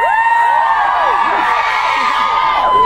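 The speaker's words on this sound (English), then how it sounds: "He's not here, you don't need to clap him." An audience claps and cheers loudly at a London Apple Store event with Harry Potter stars. The crowd noise is dense and continuous, with whoops and high shouts rising above it throughout.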